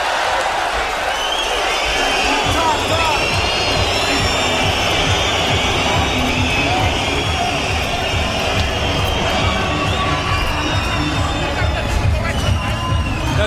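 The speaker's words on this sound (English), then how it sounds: "Listen to the crowd." A packed northern New Jersey arena crowd on Polish night roars through the closing seconds of round six in the Tomasz Adamek vs Michael Grant boxing match, a dense, sustained wall of cheering and shouting that holds loud and steady throughout.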